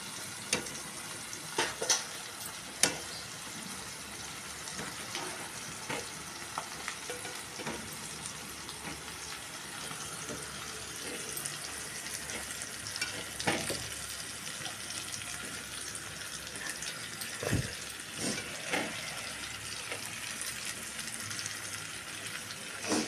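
Eggplant pieces and tomatoes cooking in a pan for a masala eggplant dish give a steady low sizzle with scattered clicks and stirring knocks throughout, with no one talking.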